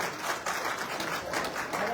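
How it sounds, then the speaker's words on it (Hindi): A crowd at an election public rally in Sangam Vihar claps loudly for an arriving speaker, a steady wash of applause throughout the short moment. "जोरदार ताली बजा के स्वागत करें।"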